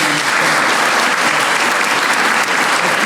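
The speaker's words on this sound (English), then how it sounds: "Please give him a round of applause." A full round of applause from an audience at a small business recognition awards event, dense and loud clapping sustained throughout with no gaps.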